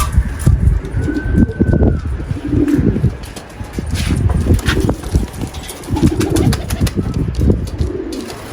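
Pigeons coo repeatedly nearby, with low throaty calls rising and falling, while wings flap and a few birds take off, all fairly loud and close.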